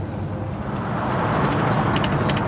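A 1967 Corvette convertible with power steering and power brakes rolls along, its engine and road rumble a steady broadband roar with wind rush, heard from inside the open car.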